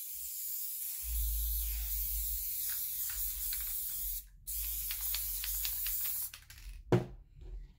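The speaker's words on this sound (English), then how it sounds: "I have just a Loctite spray adhesive." Loctite spray adhesive hisses from an aerosol can onto a diamond-painting canvas in several steady bursts with short pauses, close and clear, followed by a few light taps and a soft thump.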